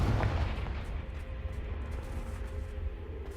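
Rumbling blasts from the Confringo spell in Hogwarts Legacy, a deep booming explosion at the start that trails off into a low rolling rumble.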